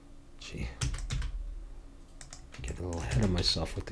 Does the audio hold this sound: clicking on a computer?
yes